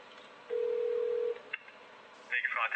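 A phone on speakerphone places a call to a technical support line: a single steady tone sounds for most of a second, followed by a brief click and then a burst of higher, warbling ringback.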